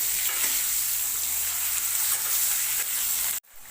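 Raw green banana pieces frying in a pan as a fish-and-banana curry cooks, a steady close sizzle with faint stirring scrapes, running unbroken until it cuts off abruptly near the end.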